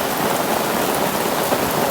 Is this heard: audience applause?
no